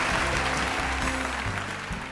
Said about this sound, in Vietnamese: một tràng pháo tay dành cho Nguyễn Anh.